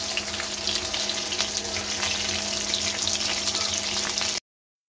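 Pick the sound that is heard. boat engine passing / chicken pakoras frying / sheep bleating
chicken pakoras frying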